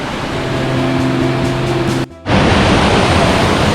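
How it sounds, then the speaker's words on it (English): A fast-flowing river on a woodland walk from Lynmouth to Watersmeet in Exmoor rushes as steady, loud broadband water noise, with a brief dip midway before the torrent returns even stronger. "we're down near the river. It's flowing pretty quickly."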